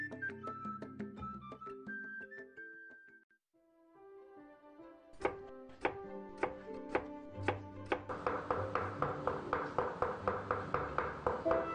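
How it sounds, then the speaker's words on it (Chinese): Red mushrooms minced with a blade on a board: after a stretch of music, evenly spaced knocks begin and quicken into a fast, steady chopping rhythm, heard over the background music. "将红菇剁碎"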